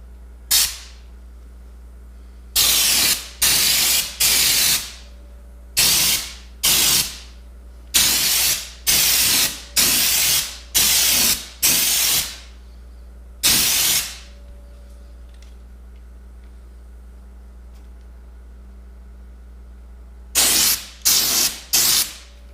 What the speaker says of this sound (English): All right, time for coat number 2.